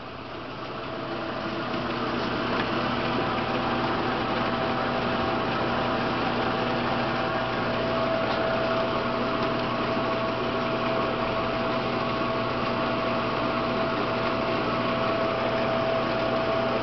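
A small workshop machine in an RC jet workshop hums steadily and continuously at close range, with a faint tonal whine running through it and no talk.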